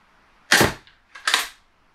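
Two sharp, snappy shots from a Steambow Stinger crossbow with a 35 lb limb fired at a target, each a sudden crack with a short rattle tail, about three-quarters of a second apart, close and loud.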